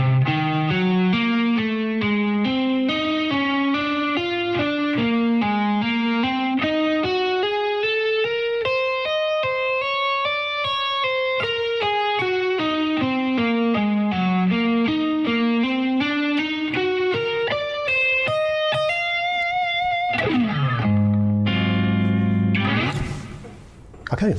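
Distorted electric guitar plays a fusion lick in D Dorian slowly and legato, its notes rising and falling in smooth waves, close and alone with effects and reverb, ending in a brief burst of lower notes.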